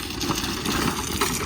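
A scooter engine passes along a badly damaged, waterlogged village road in rural Punjab, a steady mid-pitched motor hum at moderate distance.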